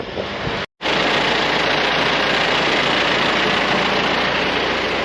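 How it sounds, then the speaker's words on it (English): A steady, low engine idle rumbles continuously after a brief moment of silence, a heavy diesel-like drone holding an even pitch throughout. "I got this tractor warming up right now"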